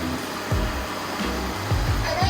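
MOOSOO MT-501 robot vacuum whirring steadily as it drives back to its dock, with soft low bumps and rising motor sweeps underneath.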